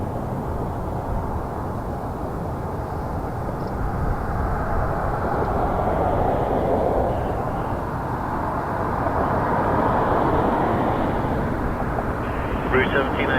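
A TAP Air Portugal airliner at Toronto Pearson airport gives off a steady, broad jet roar that holds for the whole stretch, swelling slightly in the middle, heard at a moderate distance.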